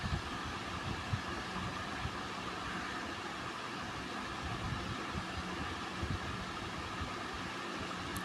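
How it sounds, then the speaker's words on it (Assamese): Electric hand mixer whirring steadily as it beats cream for a homemade cake, a continuous mechanical drone with no break, close and moderately loud with no talking. "আকৌ মেচিন লগাইছে ক্ৰীমত"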